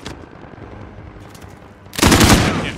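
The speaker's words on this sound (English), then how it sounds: "not sure where the gunfire is coming from" Burst of automatic gunfire in Call of Duty Modern Warfare, a loud rattling volley erupting near the end after a quieter stretch of low game ambience.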